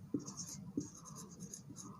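A pen writes on paper at close range during a maths lesson, giving soft scratching strokes with a few small taps, quiet and steady with no talk.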